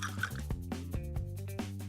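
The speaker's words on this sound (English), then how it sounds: "Pour gelatin into a pot and cover it with water." Water poured into a pot over gelatin, a faint, close trickle broken by small drips and splashes over a couple of seconds.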